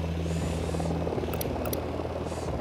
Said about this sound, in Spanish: Se acerca un helicóptero.